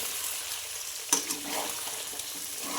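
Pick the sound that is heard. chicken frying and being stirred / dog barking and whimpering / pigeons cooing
chicken frying and being stirred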